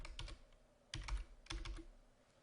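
Clicks from a computer keyboard come in three short bursts of rapid keystrokes, close and crisp, separated by brief pauses in an otherwise quiet room.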